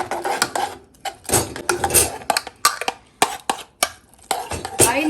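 Jaggery pongal being mixed and mashed in a vessel for a South Indian sweet dessert: a close series of irregular scraping and clanking strokes, loud and uneven, with short pauses between them.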